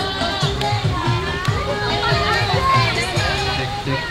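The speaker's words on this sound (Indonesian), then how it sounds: "Lumayan ramai di kawasan Pantai Pasir Putih" A busy crowd at Pasir Putih beach in Carita, with children playing and people chattering close by. A lively, continuous babble of overlapping voices runs throughout.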